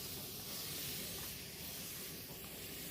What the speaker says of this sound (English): It's a continuous mist bottle.